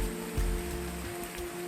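Steady rain falling while camping at a dam, a dense continuous hiss with a low rumbling undertone and no voices.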